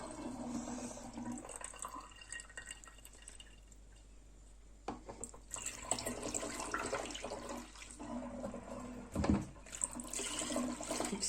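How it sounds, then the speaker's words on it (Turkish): Lemon and orange juice strained into a bottle gives a steady trickle and splash of liquid, with soft clinks and bursts of pouring. It runs continuously and close up, with no talking. "Şimdi Evet arkadaşlar şimdi şişemize alıyorum. Şöyle süze süze"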